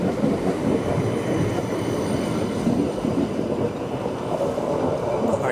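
A West Midlands Metro tram running on the original 1999 line toward St Paul's, a steady loud rumble of wheels on rail with faint clickety-clack, heard from on board throughout.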